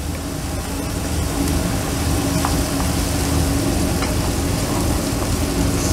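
Garlic sizzles in an already hot frying pan, a steady loud hiss and crackle of frying oil lasting throughout, with no talking.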